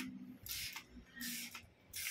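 A spray bottle mists water onto a paper target for orbeez pellet shooting, three short hissing bursts, close and soft, with faint voices in between.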